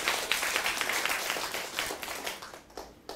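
An audience claps together in a steady, dense burst at a health talk marking the end of the COVID-19 pandemic, fairly faint and gradually thinning toward the end with no voices over it.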